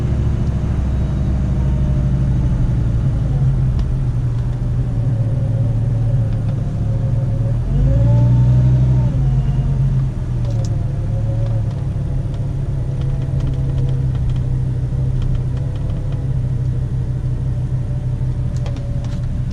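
A built, supercharged Dodge Ram SRT pickup rated around 1000 horsepower runs close by with its exhaust dumps open, idling loud and rumbly with one sharp rev around the middle before settling back to a heavy idle.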